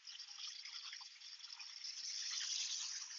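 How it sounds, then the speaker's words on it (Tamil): Water flows steadily out of a drip irrigation venturi fertilizer injector as a continuous hiss that grows slightly stronger toward the end, close and alone with no talk. "இப்ப தண்ணி வெளியில வருது."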